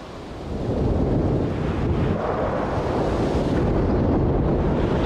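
Heavy ocean waves pound at night in the movie Cast Away, a loud, continuous roar and wash that swells in the first half-second and then stays constant, with no voices.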